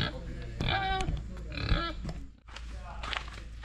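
Pigs that have been digging out pools on a ranch grunt and snort nearby, mixed with people talking throughout.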